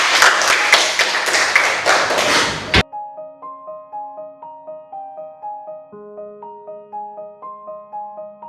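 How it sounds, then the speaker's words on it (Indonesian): A classroom claps for a discussion group in a short burst of quick, overlapping hand claps that stops abruptly. A clear, tinkling chime melody of single notes follows. "Beri tepuk tangan terlebih dahulu untuk kelompok 4."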